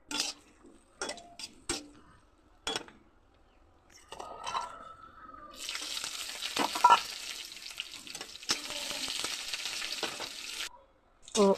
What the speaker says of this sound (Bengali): তারপর শুকনো মরিচ, পেঁয়াজ, রসুন এগুলি তেলের মধ্যে লাল লাল করে ভেজে নেব।